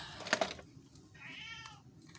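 A domestic cat meows indoors, a short soft call followed by a longer, clearer meow, moderately close with no talking over it.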